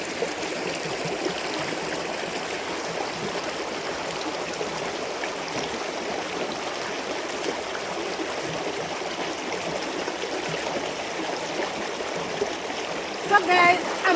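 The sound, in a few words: washing sandals in running stream water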